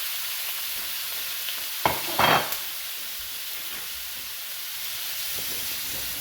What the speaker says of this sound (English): We're going to sear off our squid.